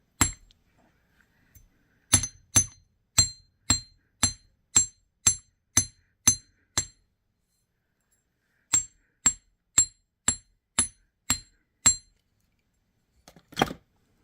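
Wire for twisted garnet earrings is hammered flat at a jewelry bench, a run of sharp metallic strikes in steady rhythm, two bursts of about nine and seven blows separated by a short pause, close and clear with no talk.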